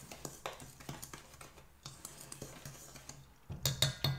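Mochi batter being mixed in a bowl, sharp irregular clinks and taps of a utensil against the bowl, quiet, with a louder cluster of knocks near the end.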